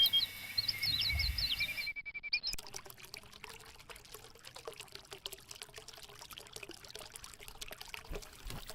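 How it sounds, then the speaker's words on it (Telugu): Water from a hand pump pours steadily into a trough on a farm, a continuous close splashing trickle that follows a brief burst of other sound at the start. "పంపు చెట్ల నీళ్లు తొట్టులో పోస్తాను."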